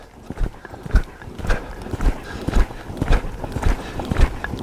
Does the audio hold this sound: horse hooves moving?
yes